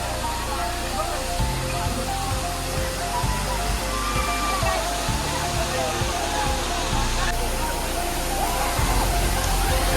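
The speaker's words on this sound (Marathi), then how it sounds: "बघू शकतास केवढं मोठं धबधबा होतो" A loud, steady rush of water falling at Manche waterfall in Devgad, Konkan, roars continuously, with faint voices and scattered bumps mixed into the constant wash.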